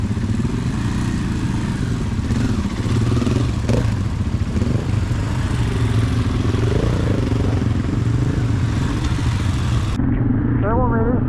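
Motorcycle engine running steadily while riding over a rough bridge of loose logs and straps across a river on a Top End moto tour, with a voice talking over the continuous engine drone.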